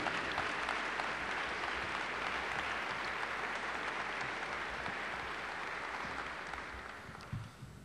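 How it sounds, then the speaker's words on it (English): Applause fills a room at a press event naming a new Creighton men's basketball head coach, continuous and even clapping that gradually thins and fades near the end. "I've never had any applause for me in this town before"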